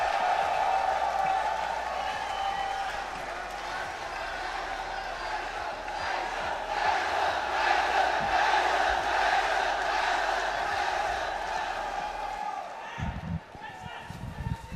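A large crowd cheers and applauds steadily after the final of the 2023 Hanoi Open Pool Championship, with the roar swelling and then thinning toward the end, and a commentator's voice running over it.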